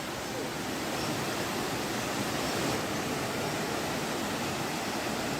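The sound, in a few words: water flowing down Elephant Falls waterfall, Shillong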